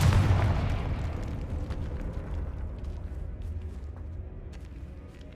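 A Confringo fire spell from Hogwarts Legacy bursts at the start with a loud, deep boom, then decays into a long rumbling roar that fades slowly, with no voices.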